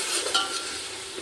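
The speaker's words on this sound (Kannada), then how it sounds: "ಸಿಮ್ಮಲ್ಲಿಟ್ಟು 1-2 ನಿಮಿಷ ಫ್ರೈ ಆಗಬೇಕು" Biryani masala mixed with curd fries on low heat, a soft continuous hiss and crackle with a faint stirring scrape, close and alone.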